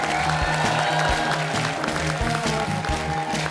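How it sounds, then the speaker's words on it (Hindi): Studio audience applause on a comedy talk show, steady clapping spread across the room over a background music loop. "वो हाथ छोड़ के तालियां बजा सकते हैं"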